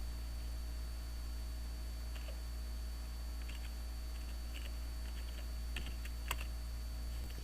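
Someone types an address on a computer keyboard while building a Microsoft Word 2016 document: light, scattered key taps that come in small clusters, heard alone over a steady electrical hum and hiss.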